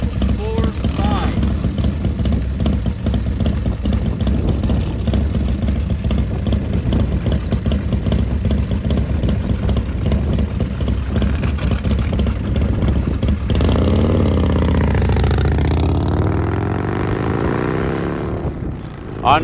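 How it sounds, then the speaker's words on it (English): A 2000 Harley Davidson motorcycle engine runs loudly at a salt-flat speed trial, a steady, continuous drone that holds for the whole stretch and shifts in tone near the end as it passes. "Bike number 145 with his 2000 Harley Davidson."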